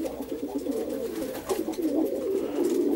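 Pigeons in Perm coo steadily and close by, a continuous low burbling chorus from several birds that lasts throughout, with no talking.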